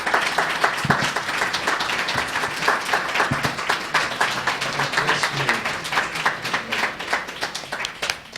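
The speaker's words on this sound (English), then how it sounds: "Give her another round of applause." Audience at a blockchain summit conference clapping for a speaker, with distinct individual claps standing out in a moderately sized, sustained round of applause.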